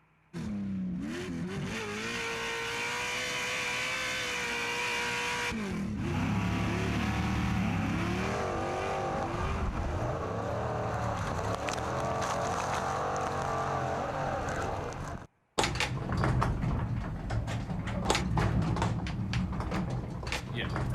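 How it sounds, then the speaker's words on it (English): Pro 4-wheel-drive off-road race trucks at a TORC Off-Road Championship round in Sturgis rumble and rev with a dense, continuous engine roar and shifting pitch, under steady commentary, with a brief cut near the end. "I hear them firing up. It's the Pro 4-Wheel Drives here at TORC, the Off-Road Championship"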